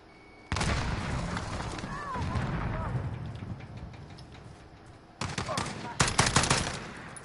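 In the Call of Duty Modern Warfare video game, a grenade blast and bursts of automatic gunfire erupt in loud, dense volleys with a short lull in between, while a player's voice talks alongside.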